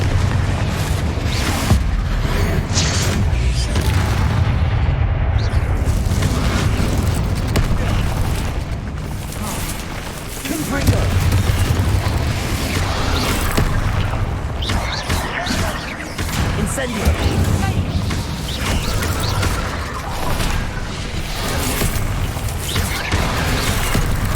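Spell explosions in the video game Hogwarts Legacy: repeated heavy booms and blasts, loud and close, mixed with a voice calling out incantations over the whole stretch.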